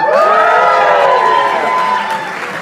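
An audience at a Hanukkah show cheers and applauds its musical guests with loud whoops and shouts riding over the clapping before the noise eases slightly at the end.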